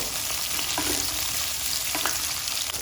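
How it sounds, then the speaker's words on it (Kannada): Onion, curry leaves and dried chillies fry in hot oil, a steady, close, dense sizzle with faint stirring scrapes, no voices. "ಈರುಳ್ಳಿ ಕರಿಬೇವು ಒಣಮೆಣಸಿನ್ಕಾಯಿ ಇದ್ದೀನಿ ಇದನ್ನೇ ಎಣ್ಣೆ ಚೆನ್ನಾಗಿ ಫ್ರೈ ಮಾಡ್ಕೊಳ್ಬೇಕು"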